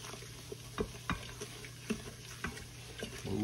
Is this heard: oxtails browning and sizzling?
yes